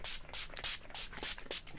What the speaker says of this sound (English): I'm using my trusty All Nighter,